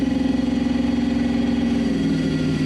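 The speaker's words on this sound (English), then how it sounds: "Car sounds like it's healthy." An off-road rock racing car engine idles steadily with a deep, rumbling, pulsing tone that holds even throughout, close and loud, with no voices.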